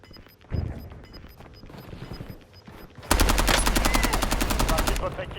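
Video game gunfire: a few scattered shots at first, then a sustained, loud rapid-fire machine-gun burst lasting a couple of seconds, with crashing impacts mixed in.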